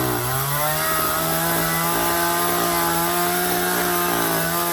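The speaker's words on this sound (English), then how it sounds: "I hear a chainsaw." A chainsaw carves a wooden bear at an agricultural fair in Topsfield, Massachusetts, a loud steady whining drone with slight pitch wavers as the blade bites, heard alone and close.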